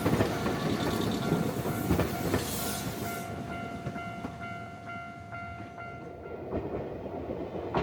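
A colorful Medetai train on Wakayama's Kada Line rumbles past on the rails with rhythmic clacking and a steady mechanical drone, gradually fading as it moves away.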